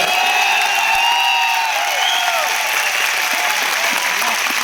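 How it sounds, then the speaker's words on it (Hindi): An audience gives loud, sustained applause with some cheering, a dense wash of clapping filling the whole span at close range, with whistles or voices rising above it. "एक बार इनके लिए जोरदार तालियां बजाइए"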